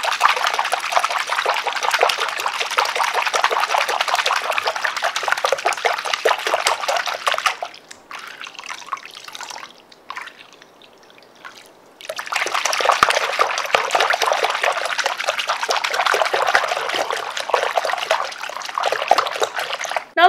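A Lush bubble bar is shaken in bath water, giving loud continuous splashing and trickling that pauses briefly midway, then resumes with vigorous sloshing close by.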